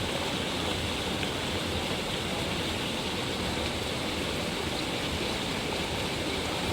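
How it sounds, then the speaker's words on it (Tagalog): A steady, loud roar of rushing floodwater from a typhoon, dense and unbroken throughout, like a strong creek current surging nearby in Metro Manila, with no voices. "lakas ng agos ng tubig oh."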